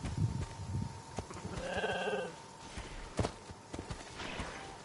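A goat in the video game Genshin Impact lets out a drawn-out, wavering bleat in the middle of a quiet outdoor scene, with soft footstep-like clops and small knocks around it.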